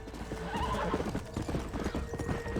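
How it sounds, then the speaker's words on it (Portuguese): A horse in Red Dead Redemption gallops with quick, steady clip-clop hoofbeats, close and clear, with a brief whinny near the start and no talking. "O cavalo corre melhor aqui."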